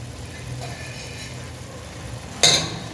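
A spoon stirs boiled potato, mutton and bottle gourd in a pan over a low steady sizzle, soft scraping throughout, ending in one bright metallic clink.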